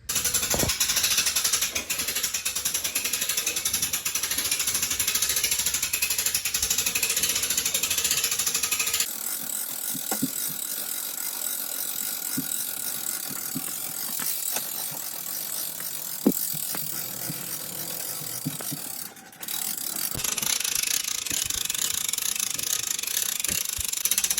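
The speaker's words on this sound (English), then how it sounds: "release the lock, and crank on that end, and pull it back to the other side" Ratchet crank on a homemade worm farm compost system, turned to pull the composting bin back across; steady mechanical clicking and grinding continues throughout, with a quieter stretch in the middle.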